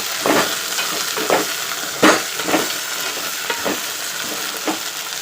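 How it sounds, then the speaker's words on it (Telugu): Tomato and okra pieces fry in hot oil for an okra pulusu, a steady close sizzle broken by several soft stirring scrapes every second or so, with no voices. "ఆ తర్వాత టమాటా వేసుకున్నాం. కొద్దిసేపు నూనెలో యాగనిచ్చాము."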